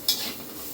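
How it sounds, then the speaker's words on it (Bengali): Neem leaf mixture stirred in a pan, a brief scrape and soft sizzle near the start, then a quiet steady hiss fading out, close and alone. "সুন্দর মিশিয়ে দিলাম।"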